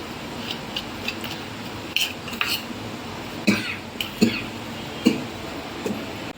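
Fried cashew snacks made from maida dough get tossed with jaljeera spice powder, soft scraping and clinking of a spoon against a bowl in scattered strokes, close by, with a cough or two in the background.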